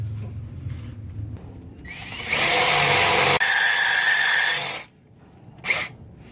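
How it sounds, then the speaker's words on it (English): A drill bites into a broken exhaust stud on a Nissan 300ZX in a loud, grinding burst of about two and a half seconds that cuts off abruptly, with a brief sharp scrape afterward. "I should probably drill the other one out while I'm here."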